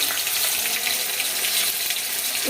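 Ginger-garlic paste hits reddened onions frying in a pan for a fish curry, making a dense, continuous sizzle that stays even and close throughout.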